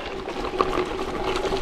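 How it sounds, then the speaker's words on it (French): A river flowing beside a trail on a cycling outing, a steady soft rush of water holding at a constant level with no talk over it. "Et la rivière est là."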